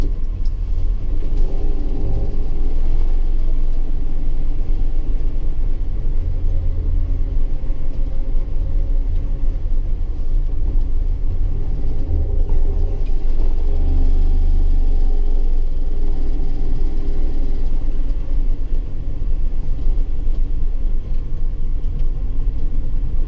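A 1958 DKW F93 on a morning drive, its engine giving a steady low rumble with road noise from inside the car, continuous and fairly loud throughout with no talk.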